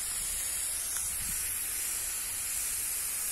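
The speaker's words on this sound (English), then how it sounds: "One putting down a good spray." A steady, bright hiss of an irrigation sprayer watering an avocado orchard runs continuously, close by, with no voices.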